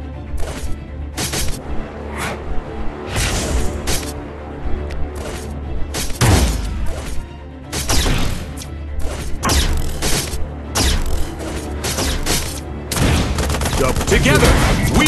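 A barrage of gunfire and explosions in the Paladin Strike action game, with repeated sharp bursts and booms over a steady game soundtrack.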